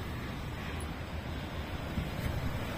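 Strong wind gusts across a mountain peak at High West in Hong Kong, buffeting the microphone in a continuous broadband roar with low rumbling surges throughout.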